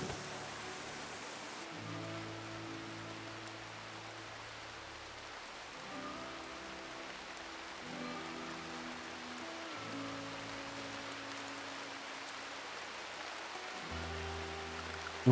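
Steady, soft rain hiss from the Rimworld video game, a continuous gentle patter running beneath calm tonal background music.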